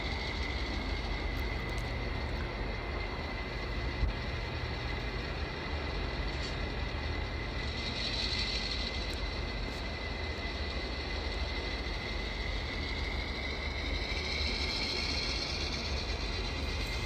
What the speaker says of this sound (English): Now we've disconnected, and we're going to run around the train.